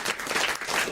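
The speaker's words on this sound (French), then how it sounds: "on vous applaudit" A studio audience on a French radio comedy show breaks into applause, a brief, dense burst of many hands clapping at steady loudness.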